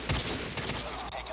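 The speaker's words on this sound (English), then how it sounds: "Are these bots automatically shooting like 8 shots in a row?" Rapid automatic gunfire from bots in Call of Duty Mobile, a dense burst of close, loud shots firing in quick succession throughout, with no voices over it.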